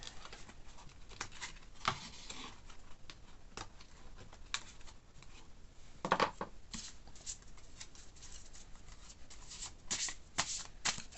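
Oracle cards are shuffled during a tarot reading, a soft, fast riffling patter that runs close and steady for about eleven seconds, with a few louder flutters, and no one speaks.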